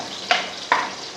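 Garlic sautés in a pan for a mung bean stew, a low background sizzle with two quick scraping stir strokes.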